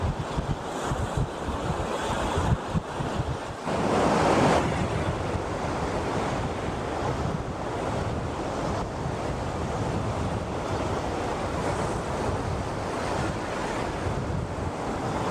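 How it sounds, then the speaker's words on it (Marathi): Strong wind gusts roar over crashing surf on a Konkan seashore at dusk during traditional fishing, a steady broadband rush with a louder gust swelling near the start, no voices. "आता वारो पण खूप सुटलो आणि पाणी पण भरतं"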